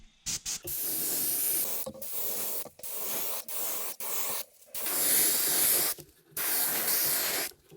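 An airbrush sprays a pearl white paint coat onto a 4.5-inch musky fishing lure in a series of short hissing bursts, about eight of them, separated by brief pauses, close and alone.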